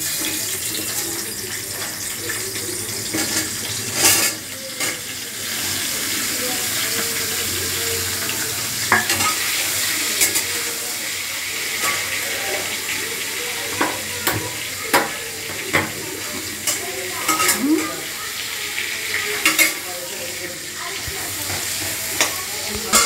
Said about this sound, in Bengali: এইবার আমি পটলটা ভাজছি।